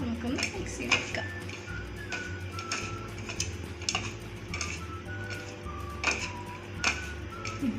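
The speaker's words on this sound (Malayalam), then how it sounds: "ഇതിൽ കുറച്ച് ഓയിലൊന്ന് ആഡ് ചെയ്തിട്ട് നമുക്കൊന്ന് മിക്സ് ചെയ്ത് കൊടുക്കാം." Potato pieces are tossed with oil in a bowl for a saucy spicy potato dish, with soft repeated clinks and scrapes of a utensil against the bowl, quiet and close, and faint talk in the background.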